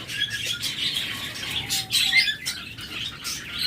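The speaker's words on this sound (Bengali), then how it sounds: "এটা হলো হোয়াইট পিস ককাটেল" A pair of white pied cockatiels gives bursts of chirpy, squawking calls, close and moderately loud, with brief pauses between calls.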